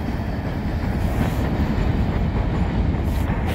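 A BNSF empty grain train rolls past at Cherry Run, West Virginia, heading westbound, a loud, close, continuous rumble of wagons with steady wheel and rail noise throughout.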